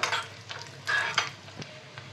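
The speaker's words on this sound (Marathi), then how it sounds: "तूप गरम झालं की त्यातनं मिक्स ड्रायफ्रूट्स आपण आहे ना कट करून घेतलेले आहेत ते खमंग असे तळून घेऊया" Soft, steady sizzling of chopped mixed dry fruits frying in hot ghee, with occasional stirring scrapes and light utensil clicks; no voices.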